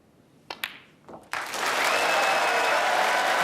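Snooker audience at a World Championship semi-final breaking into loud, sustained applause for a century break, beginning with a few scattered claps before swelling into a steady full-house ovation.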